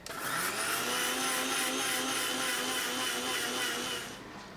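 A kitchen mixer grinder runs steadily, grinding sugar into fine powder: a loud, continuous high-pitched whir holds for about four seconds and then starts winding down, with no voices.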